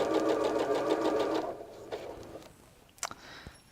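A sewing machine stitches in a fast, even rhythm through a thick, bulky quilt seam for about a second and a half, then stops. A few soft handling clicks and taps follow.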